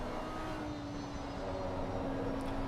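A GT3 race car engine in a racing video game, lapping Suzuka, gives a steady, droning roar with a constant tonal hum, loud and unbroken throughout with no talk.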